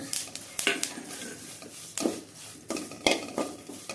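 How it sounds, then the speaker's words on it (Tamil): Curry leaves and dried red chillies being dry-roasted in a pan, with repeated sharp clinks and scrapes of a metal spoon against the pan over a faint sizzle, close and fairly quiet. "ஒரு ஆறு மிளகா போட்டு வறுத்துக்கினேன் இப்போ கருவேப்பிலை போட்டு வருகிறேன்"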